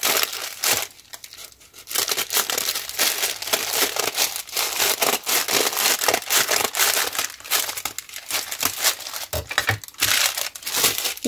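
Paper being cut for a junk journal, a dense run of crisp crinkling and snipping rustles close by, nearly continuous with brief pauses, no talk.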